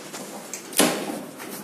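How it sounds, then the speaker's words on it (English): Lift doors at a derelict Tesco in Chatham slide shut with one sharp thud and a short rumble, over a quiet hissing room background. "Doors. Closing."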